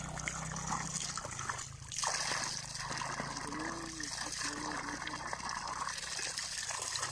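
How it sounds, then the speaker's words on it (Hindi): Water gushes under pressure from a hand pump in a steady rushing, splashing stream. It is fairly faint and continuous, with a slight swell partway through. "ये इतना प्रेशर है कि पानी भी नहीं पिया जा रहा"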